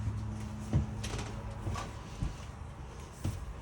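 The top bunk of a 2022 Forest River Salem 29VBUD bunkhouse RV trailer is pulled down, giving a few soft knocks and clunks spread over a few seconds in a quiet interior.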